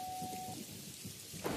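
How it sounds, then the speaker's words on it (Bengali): Heavy rain pours steadily with a low rumble of thunder beneath it, a faint tone at the start fading out and a brief louder burst of rain at the end. "এত জোরে জোরে বৃষ্টি, তার সাথে মেঘের গর্জন"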